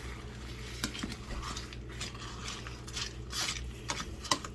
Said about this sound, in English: Alright, so I'm just stirring these in and mixing them